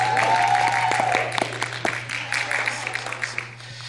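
Applause from a crowd at a live performance at a social event, a broad patter of clapping with a whistle-like tone early on and a steady hum underneath, tapering off toward the end.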